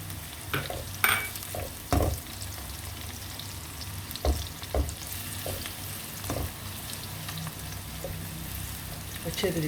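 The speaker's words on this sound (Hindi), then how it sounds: "साथ ही अब इसमें मैं लहसुन भी ऐड कर दूंगा, इसको भी मैंने ब्राउन कर लेना है।" Onion and garlic browning in a pan for an arbi-baingan dish, a continuous close sizzle with occasional stirring scrapes and clatter, and no voices.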